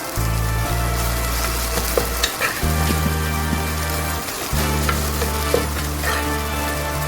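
Rice being stirred into vegetable biryani masala in a pan, a steady sizzle under scraping, with a low mechanical hum that cuts out and returns and a few sharp clinks of the spoon against the pan.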